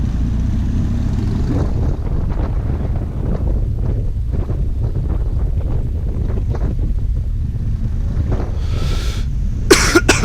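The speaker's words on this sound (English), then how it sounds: "had a little bit of a cough there going on" A rider coughs several times, close to the microphone, during a cool-weather New Year's motorcycle ride, with steady wind and road noise roaring underneath throughout.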